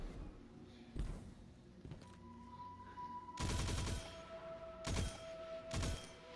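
The Huckleberry submachine gun fires in Destiny 2, loud bursts of rapid automatic gunfire broken by short pauses, with thuds and faint game effects between bursts and no talk.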